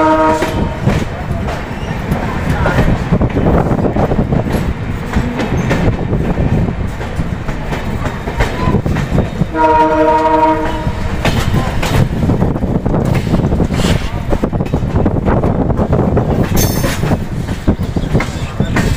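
An Indian train rumbles and clatters steadily on the approach to Jaipur Junction, its horn sounding one loud blast midway, with wheel noise continuing throughout and a voice briefly speaking.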